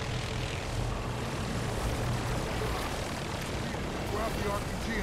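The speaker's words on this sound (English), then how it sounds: "Grab the RPG and take out the chopper." Enemy helicopter in the shooter game Turok: a constant, loud rotor and engine drone that fills the whole stretch, with a voice speaking over it.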